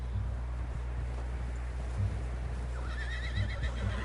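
A horse in a PS4 video game lets out a short whinny near the end, over a steady low background hum with faint clopping.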